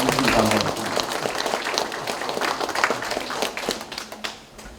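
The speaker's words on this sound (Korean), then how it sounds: "우리 한번 박수로 조창현 부시장님께 보내주시기 바랍니다." A crowd at the opening ceremony of the Korea Filial Piety Culture Promotion Institute in Yeongju, South Korea, applauds in dense, fairly loud clapping that runs steadily and then tapers off toward the end.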